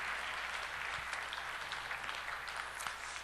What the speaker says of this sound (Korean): 한 번 더 박수로 격려해 주세요